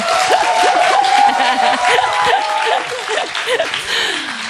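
Audience applause at a film event with the Frozen 2 directors, loud and continuous clapping from a crowd, with a voice speaking over it and a few scattered chuckles and cheers.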